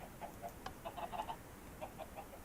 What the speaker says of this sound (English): This is chicken spawner.